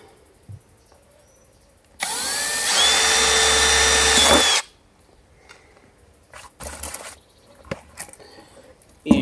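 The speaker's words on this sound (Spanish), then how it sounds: "Vamos al taladro." A power drill bores into a recycled metal can being made into a percussion instrument, one loud sustained whine of about two and a half seconds, followed by quieter handling clatter and small knocks.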